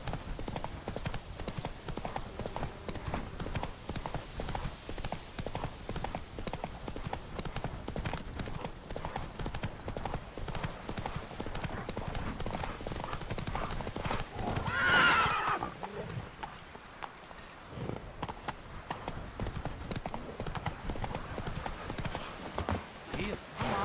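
Roach the horse gallops in The Witcher: Wild Hunt, steady hoofbeats drumming under game voices, with a brief whinny midway before the pace slows.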